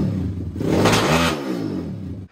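A pit bike engine with its carburetor just refitted revs up hard, the note rising and falling loudly and close by for about two seconds before cutting off abruptly.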